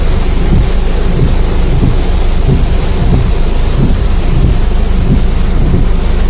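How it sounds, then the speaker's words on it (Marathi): Heavy thunderstorm rain pours in a loud, unbroken roar, with low rumbling thunder woven through it and no pauses. "जोरात पाऊस येतोय."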